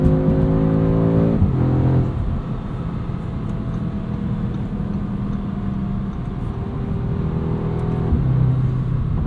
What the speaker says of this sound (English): even in manual, at redline, it'll automatically upshift into the next gear.